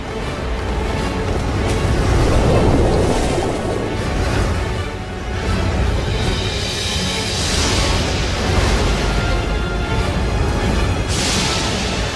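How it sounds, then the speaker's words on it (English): Huge tidal waves race across the surface of the early Earth, a deep, continuous roaring wash that swells and recedes in broad surges, loud and without speech. "creating huge tides that race across the planet's surface"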